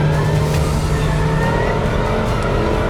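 Supercar engines roar at the Buddh International Circuit during an open trackday, a loud, sustained mechanical drone of cars at speed on the circuit with no talking.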